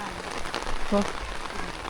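Steady rain patters on surfaces outdoors along the road to a Sunday morning market, a continuous close wash of drops with faint voices in the background.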